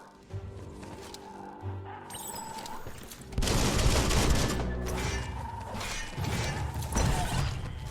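Gunfire in the video game Biomutant, with bursts of shots and mechanical clatter over a steady game soundtrack, growing louder and denser partway through the combat.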